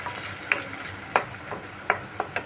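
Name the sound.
spice paste being fried and stirred on low flame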